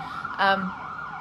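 An emergency siren wails in the background, with a brief louder tonal burst partway through.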